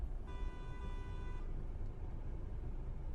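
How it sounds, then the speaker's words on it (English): A single car horn toot rings out for about a second, a bright, steady tone over continuous low road and engine rumble, moderately distant and fairly faint, with no voices. "Yes, you had a powerful horn."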